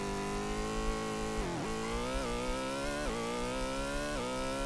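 The F1 car engine of Formula One Grand Prix (1992) whines continuously in a steady synthesized drone, dipping briefly with each gear change about every second before climbing again.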